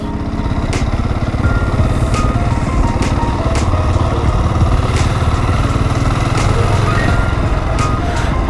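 Husqvarna 701 Supermoto single-cylinder engine while riding, a steady loud rumbling thump pulsing throughout with wind noise, and light clicks on top, no voices.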